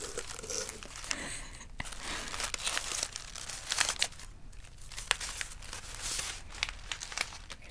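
Crinkly packaging being handled up close during an ASMR unboxing, a steady stream of crackling, rustling crinkles with sharper crunchy bursts, soft and intimate with no talking.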